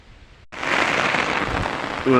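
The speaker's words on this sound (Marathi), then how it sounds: "तर मित्रांनो पाऊस आला आहे" Steady rain pours down outdoors in hilly countryside in the Konkan region, a dense hiss starting abruptly after a short quieter stretch and continuing loud and close, with a brief louder patter near the end.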